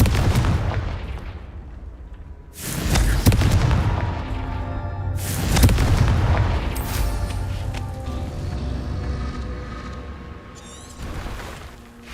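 Fiery Confringo spell blasts in Hogwarts Legacy, two heavy booming explosions with rumbling tails, loud and close, set among ongoing battle noise and lingering crackle, with a fainter hit near the end.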